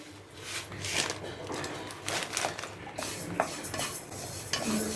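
Mustard, fenugreek and fennel seeds dry-roasting in a pan, with repeated scraping and stirring strokes of a spoon against the metal over a faint sizzle, and a voice talking at moments.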